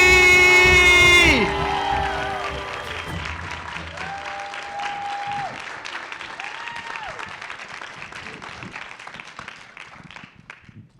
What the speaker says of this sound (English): give you a huge round of applause here for Mary Miles and Brandon H. Lee!